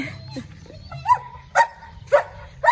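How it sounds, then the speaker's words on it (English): Four sharp dog barks ring out at a steady pace, close by, over a low background hum. "The dogs always wait for me at the back gate."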